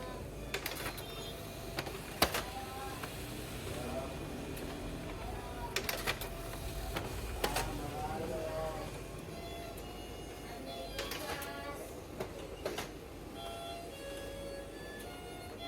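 Xerox photocopier running in a small business, a steady mechanical hum with periodic clicks and sharp clacks as pages feed, while a voice talks quietly now and then.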